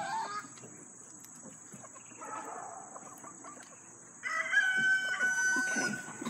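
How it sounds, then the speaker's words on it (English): Rooster crowing and chickens clucking on a farm where pigs are kept, with a longer crow rising near the end above a steady background of scattered clucks and insect-like chirping. "Okay, here a rooster."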